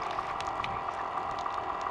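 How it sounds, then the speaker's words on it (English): A portable shower pump primes and draws water, giving a steady bubbling, gurgling liquid sound with a soft continuous hum, moderately close and without talk. "It's a very quiet pump."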